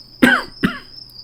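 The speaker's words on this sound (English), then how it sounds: "The mailman pauses for a moment and coughs, takes a moment to catch his breath." A man coughs twice in quick succession, close and loud, with a faint steady hum behind.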